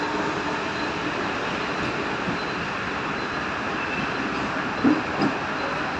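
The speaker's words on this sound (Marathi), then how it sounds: "ही बघा ही गाडी आलेली आहे पनवेल ही पनवेलला जाणारी गाडी आहे" Steady rumbling roar of a crowded local train to Panvel arriving at Juinagar station, Navi Mumbai, constant and fairly loud, with a couple of brief clanks near the end and no talking.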